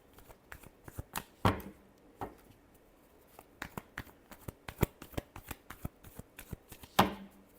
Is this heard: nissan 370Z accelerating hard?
no